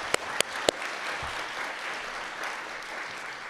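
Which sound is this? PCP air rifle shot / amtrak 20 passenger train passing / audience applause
audience applause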